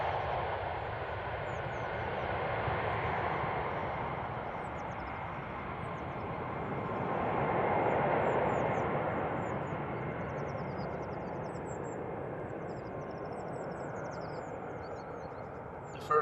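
A Lufthansa Airbus A319 departs Schiphol with a sustained jet roar at moderate distance. It swells gently around the middle and then stays level for the rest of the stretch, with no talking.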